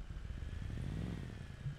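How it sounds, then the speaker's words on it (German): A quad bike engine from the survival game SCUM hums steadily at close range, a low motor drone with a slight rise in pitch, no voices. "gute Weitraut fährt nun das Quad tanken"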